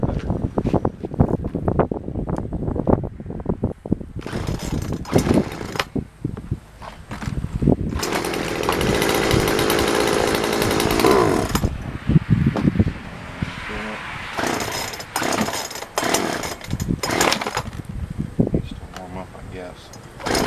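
A Jonsord 2036 Turbo chainsaw with a freshly tightened chain and adjusted idle runs loud and close, its engine roaring and surging unevenly through the whole stretch, with wind buffeting the microphone.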